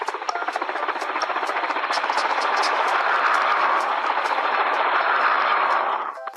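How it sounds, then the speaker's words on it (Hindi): Steady whirring rotor drone with rapid chopping pulses, loud and continuous for several seconds before cutting off abruptly. "हेलीकॉप्टर सीधे उस होटल के सामने आकर रुका।"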